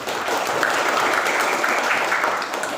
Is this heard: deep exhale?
no